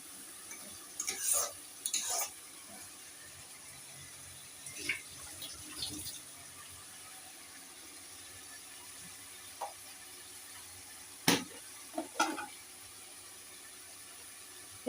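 A spatula stirs spiced fish curry with tomato in a pan, making quiet, sporadic scrapes and clinks with long still gaps in between.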